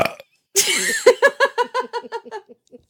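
A long, loud burp up close, followed by a rapid run of short rhythmic bursts that taper off like hiccuping laughter.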